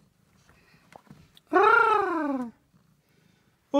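A cat lets out a single drawn-out meow, loud and close, in an otherwise quiet room, with a faint voice briefly heard beforehand.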